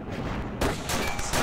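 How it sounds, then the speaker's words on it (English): Gunfire from the video game Cortex Command, with a sniper rifle in play, sounds as a few loud, booming shots in quick succession over a dense game soundscape. "He's got a sniper rifle."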